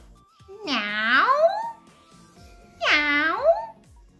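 A person imitates a cat with two drawn-out meows, each close and clear, with a pause between them.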